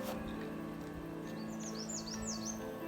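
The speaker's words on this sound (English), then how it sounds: "You can hear the birds out here." Bird calls ring out faintly over a constant outdoor hum by the water among cypress trees, a few rising whistled notes repeating in the second half.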